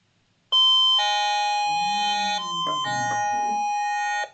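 An electronic doorbell chime, replayed from a Flipper Zero, rings loudly up close, a sustained multi-tone melody of several notes lasting a few seconds, with no voices.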